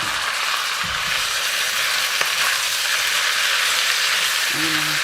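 Octopus drops into a hot frying pan and sets off a loud, continuous sizzle. A faint clink from a utensil comes partway through, and a brief tonal beep sounds near the end.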